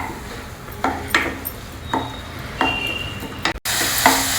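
Green peas and chopped tomato fry in a pot for moong sprout khichdi, a soft sizzle under a few clinking spoon stirs against the metal, one sharp knock near the end, no talk.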